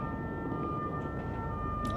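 Ambulance siren in the video game GTA 5, a faint continuous electronic tone that holds steady under a low background rumble.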